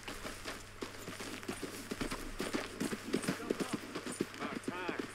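Hooves of a horse ridden in the video game Red Dead Redemption II, with a steady clip-clop of hoofbeats at a brisk gallop and voices talking over them.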